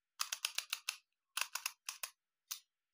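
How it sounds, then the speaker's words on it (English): An Olympus OM-10 film camera's shutter fires in a run of crisp mechanical clicks, some rapid and clustered, others spaced apart, close and dry against silence. "Shutter blades open and close lovely."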